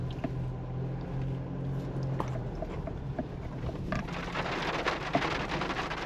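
Rain falls steadily at a riverside campsite during a car camping trip, a dense close patter of drops on surfaces with scattered sharper ticks. A low hum fades out partway through.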